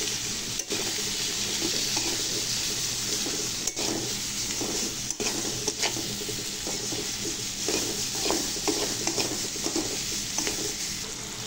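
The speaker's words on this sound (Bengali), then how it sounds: "কিছু সময় ভেজে নেওয়ার পরে আমরা এখন ভেজে রাখা আলুগুলো এর মধ্যে দিয়ে দিব" Mixed vegetables fry with spices in a pan, a constant dense sizzle that holds even and moderately loud, with faint scrapes of stirring and occasional soft clinks.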